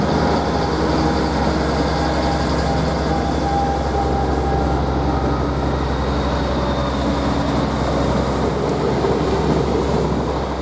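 An East Midlands Railway Nottingham-to-Norwich train at Ely station gives off a steady low rumble and engine drone, continuous and fairly close, with a faint tonal whine and no voices.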